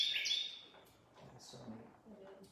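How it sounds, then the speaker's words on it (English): A Carolina wren, a very small but loud bird, gives a bright burst of chirping calls at the start, followed by people talking. "That is South Carolina's state bird calling right now. And it's the wren."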